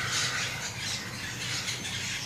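Homestead birds squawk in quick, harsh repeated calls, moderately loud and close and heard alone throughout.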